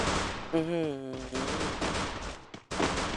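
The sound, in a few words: gunfire in video game Free Fire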